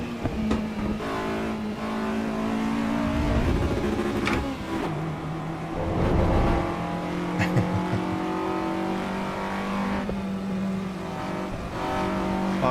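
Race car engines in the Assetto Corsa Evo racing game drone and rev steadily, loud and continuous, with shifting pitch as cars accelerate and brakes lock up, plus bursts of tire squeal around the middle.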